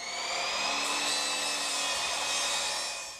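A saw blade rips steadily through a wooden board for a desk topper, a loud, continuous whine with a dense high rasp that holds for about three seconds before easing off at the end.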